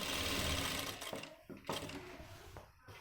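A sewing machine stitches the front pocket of a pair of men's pants, whirring in short quiet bursts separated by brief pauses.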